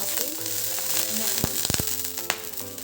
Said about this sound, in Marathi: तवा तापत ठेवलेला आहे याच्यावरती मी काय करते थोडंसं पहिल्यांदा तेल टाकून घेते थोडंसं पाणी